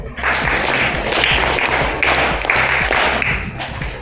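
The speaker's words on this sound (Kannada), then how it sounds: "ಜೋರಾಗಿ ಚಪ್ಪಾಳೆ ಹೊಡಿ" An audience at a World No Tobacco Day awareness event in Kapu claps loudly and continuously, a thick steady roar of many hands lasting about four seconds.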